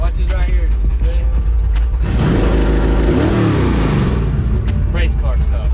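A Camaro drag car engine fires up and revs hard, its loud rough idle surging into a rising roar and falling back, close by and dominating.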